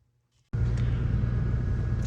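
A 1988 Ford Ranger pickup's engine starts up abruptly after near silence and settles into a loud, steady rumbling idle close by.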